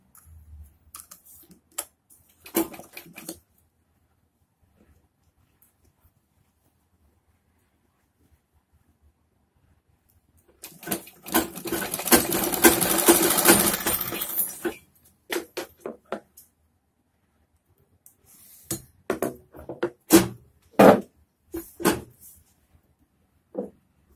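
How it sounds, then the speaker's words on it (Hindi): A sewing machine stitches a samosa-cut churidar pajami, with one sustained run of stitching in the middle and scattered clicks and handling taps around it in an otherwise quiet room. "मोरी पकड़ते हुए सिलेंगे।"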